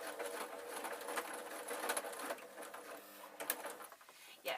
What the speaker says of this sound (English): sewing machines generally don't like sewing elastic